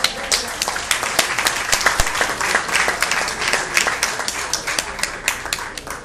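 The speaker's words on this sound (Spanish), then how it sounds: "Eso es un aplauso para él." A church congregation breaks into dense, sustained applause, with sharp claps packed together and holding steady from start to finish, close and lively.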